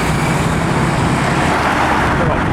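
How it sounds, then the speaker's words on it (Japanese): Heavy road traffic in Cairo makes a loud, constant roar of engines and tyres close by, an unbroken dense rumble with no distinct breaks. "ですごい交通量。"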